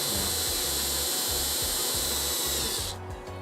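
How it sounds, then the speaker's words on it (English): A power drill whirs steadily at a low, even speed with a rhythmic grinding pulse, drilling a hole to mount a race car wickerbill, then stops abruptly near the end. "just low speed is enough. Just as long as you're able to drill through the hole."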